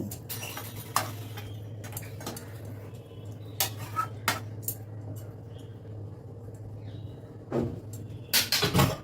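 Vegetable curry with fried eggplant and fried lentil dumplings mixed in a pot of water, with scattered spatula knocks and scrapes against the metal over a low steady hum, close and intermittent, busiest toward the end, no talking.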